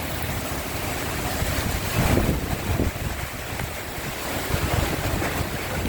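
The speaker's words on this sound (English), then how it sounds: "Wind is pretty strong out there, but it's not really gusting right this second." Strong wind from a tropical cyclone in Darwin, Australia roars steadily with buffeting against the microphone, mixed with a rushing, surf-like wash; a louder surge comes around the middle.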